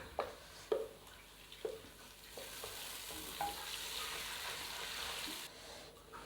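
Green garlic and ground masala fry in a pan with a soft, steady sizzle, broken by a few light stirring clicks and scrapes early on, quiet and close with no talking.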